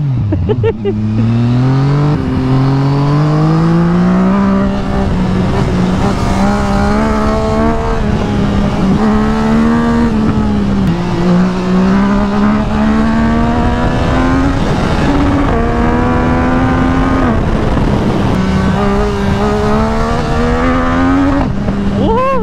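A Yamaha MT-09 motorcycle engine revs continuously, its pitch climbing and dropping in repeated surges as throttle is worked, loud and close throughout, with a voice faintly under the engine note.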